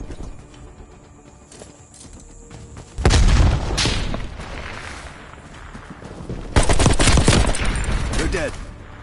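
Grenade explosions and gunfire in the video game Black Ops Cold War, with two heavy booming blasts followed by rattling bursts of shots over a noisy battle background.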